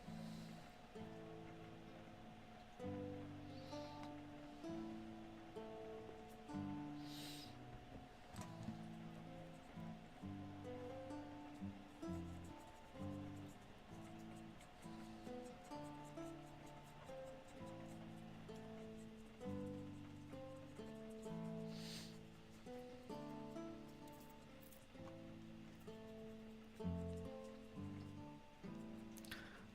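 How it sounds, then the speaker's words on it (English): Steady rain falls outside, a continuous soft hiss with occasional louder drips, heard from a distance under a low humming background. "I can hear the rain over on your end."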